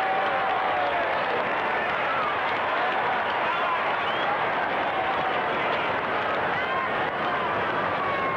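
A huge crowd of about 80,000 at the 1958 VFL preliminary final between North Melbourne and Collingwood sends up a sustained, even roar of cheering and applause, a dense wash of distant noise with no break.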